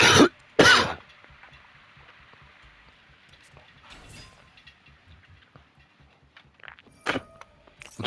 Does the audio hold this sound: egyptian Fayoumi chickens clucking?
no